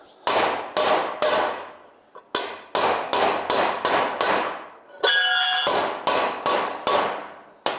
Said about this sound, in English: Sometimes you really just need a bigger hammer